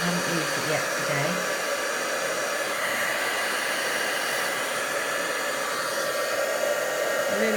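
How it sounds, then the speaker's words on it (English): A heat embossing tool blows a steady, close, hair-dryer-like rush of hot air as it warms up. The airy whoosh is continuous and even throughout, with no talking over it. "I'm going to give my heat tool a chance to warm up"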